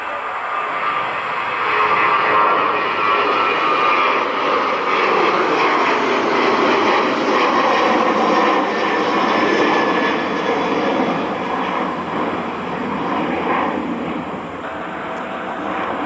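Jet engines of an airliner roar steadily at Cleveland Hopkins International Airport. The sound is loud and sustained, with a broad rushing drone that swells slightly and then eases near the end. There is no talking over it.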